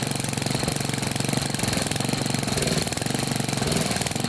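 A Briggs 190cc OHV engine on a MasterCraft Lawn Chief rototiller runs steadily while warming up. The close, loud idle chugs with an even rhythmic pulse and a slightly rough, knocking edge, and no one speaks over it.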